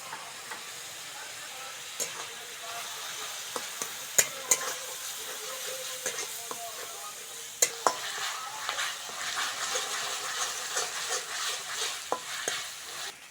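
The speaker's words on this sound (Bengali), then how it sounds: "আদা রসুন পেঁয়াজ ভালো করে ভেজে নিয়েছি" Onion, ginger and garlic paste frying in hot oil for a Bengali pointed gourd and prawn curry, a steady sizzling hiss broken by spoon stirs and sharp knocks against the pan.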